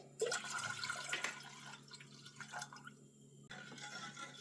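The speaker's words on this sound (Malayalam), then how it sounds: "രണ്ട് കപ്പ് പാലിലേക്ക് ഒരു കപ്പ് വെള്ളം ഒഴിച്ച് കൊടുത്തിട്ടാണ് ചൂടാക്കുന്നത്" Water poured into two cups of milk in a pan while preparing Ramadan thari kanji, a steady close splashing and trickling stream that runs unbroken for several seconds with no talking.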